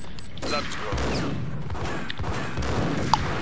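Max Payne video game gunshots pop amid a busy, clattering soundscape, with a voice talking over the action.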